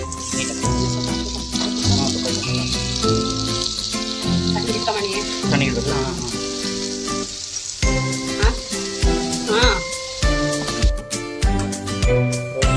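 Paneer sizzles and fries in a pan while being cooked for biryani, with a steady loud crackle broken by clinks and scraping from a utensil against the pan. No talk is heard.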